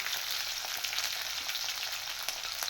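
Garlic and small onions fry in a pan with curry leaves for a green chilli mandi, making a soft, even, continuous sizzle with faint crackles and no voices.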